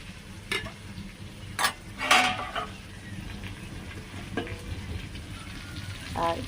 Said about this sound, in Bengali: এদিকে দেখো, আমার চিলি চিকেন হচ্ছে।